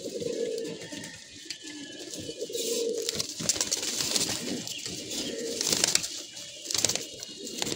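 A large pigeon cooing in soft low phrases that repeat, mixed with a steady hissy background and scattered clicks and rustles, with no talk.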